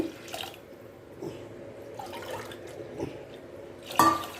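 Tamarind water poured into a pressure cooker with rice while making tamarind rice: a faint, uneven trickle with scattered drips over a quiet kitchen background, then a brief, sharper splash near the end.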